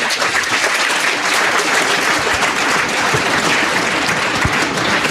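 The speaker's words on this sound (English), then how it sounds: "kindly welcome to distinguished dignitaries and international delegates with a huge round of applause" Loud, sustained applause from a large crowd at an international conference opening, a thick continuous wash of clapping with no pauses.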